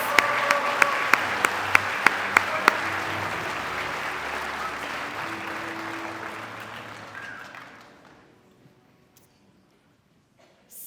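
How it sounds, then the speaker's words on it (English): An audience at a student of the year ceremony applauds, a broad wash of clapping with a few sharp claps standing out early, gradually fading to near silence by the end. "Let's give them a round of applause."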